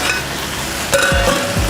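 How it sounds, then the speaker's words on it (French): Minced meat sautéing in a pan with unsalted butter, salt and pepper: a steady close sizzle with a few stirring scrapes near the end, no talking. "nous sommes en train de sauter la viande hachée avec un peu de beurre doux, du sel, du poivre"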